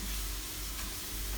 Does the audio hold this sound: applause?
no